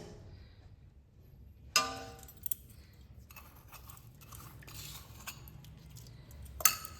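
A spoon stirs jaggery into milk for payesh in a pot with the gas turned off, giving a few sparse, quiet metallic clinks against a near-silent background.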